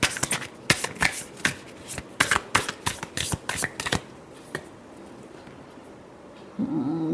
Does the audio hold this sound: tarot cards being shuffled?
yes